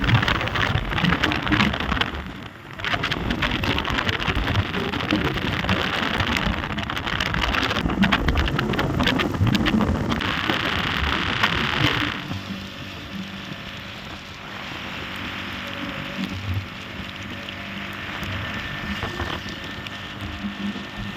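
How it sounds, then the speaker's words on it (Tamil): Heavy rain pours down outdoors in a dense, steady hiss that dips briefly and then stays loud before easing to a softer but still continuous downpour in the second half. "நாங்கள் நினச்ச மாதிரியே மழை ஸ்டார்ட் ஆகிடுச்சு."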